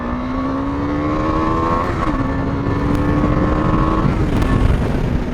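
A KTM 390 Adventure motorcycle's single-cylinder engine revving: loud, close engine drone rising and falling in pitch through several throttle blips over a steady rumble, with no talk.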